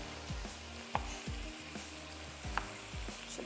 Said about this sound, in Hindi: चलिए इसको चम्मच भी चलाते जाते हैं।